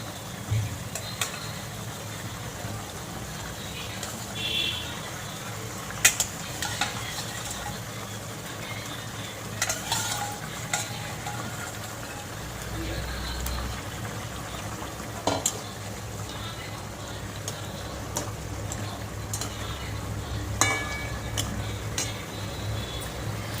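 Fried hilsa fish is stirred into boiled potatoes in a pan, with a continuous low sizzle and bubbling broken by scattered scraping clicks of the spatula over about twenty seconds.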